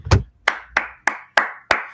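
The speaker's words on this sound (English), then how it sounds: "let me applaud that, right?" Six slow, deliberate hand claps ring out alone at a steady pace, loud and close, each sharp strike followed by a short decaying tail.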